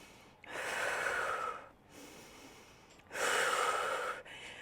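Deep, slow breaths are drawn in and out during a yoga plank hold, with two long, close, airy inhale-exhale cycles and no talking.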